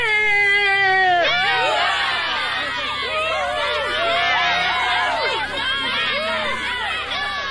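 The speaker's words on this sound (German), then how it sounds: "Der Jubel und die Freude waren natürlich riesengroß" A crowd of children bursts into excited cheering and shouting, many overlapping high voices yelling with joy close up and loud, after a sustained high horn-like tone at the start, in an audio drama scene.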